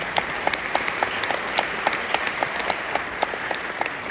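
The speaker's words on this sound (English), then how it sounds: "give yourselves a round of applause" An audience claps for a few seconds at a jazz ensemble performance, a crisp patter of individual hand claps with no cheering or talk.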